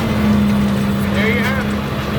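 Datsun engine with dual SU carburetors and an overhead cam, pulled from a car left in the woods, idles loudly and unevenly with a steady droning hum while a voice talks over it.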